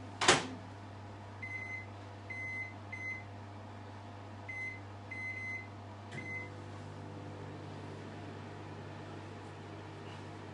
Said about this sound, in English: I'm going to put a microwave 1 minute and to start